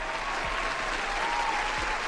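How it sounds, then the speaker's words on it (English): Steady applause from an audience, a continuous wash of clapping at moderate distance with no voices standing out. "let's give her a round of applause for that"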